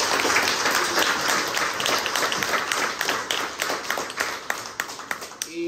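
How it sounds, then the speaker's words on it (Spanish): A church congregation at Mass applauds the catechists, a loud continuous burst of many hands clapping with sharp individual claps standing out, fading a little near the end. "Démosle un fuerte aplauso a los catequistas también."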